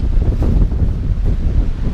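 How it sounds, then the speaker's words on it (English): Strong wind buffets a microphone outdoors beside a 2000 BMW 323i wagon, a loud, steady low rumble with gusty swells and no voices. "A little windy."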